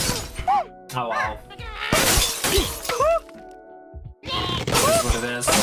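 Glass blocks shatter in the Angry Birds Friends mobile game, a synthwave-themed tournament level: several sharp, crashing breaks and tinkling bursts come in quick succession among swooping cartoon squawks and game music.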